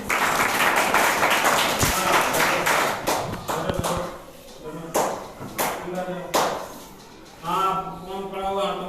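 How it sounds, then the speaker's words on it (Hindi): Classroom children clapping in a loud, crisp burst for a few seconds, then tapering into scattered claps with a teacher's and children's voices speaking between them. "बहुत बढ़िया, ताली बजाओ।"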